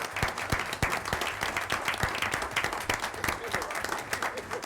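Steady applause from the audience at a city Board of Mayor and Aldermen meeting, many hands clapping close and continuous throughout with a faint crowd murmur underneath.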